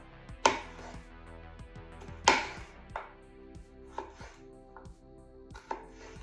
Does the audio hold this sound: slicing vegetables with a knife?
yes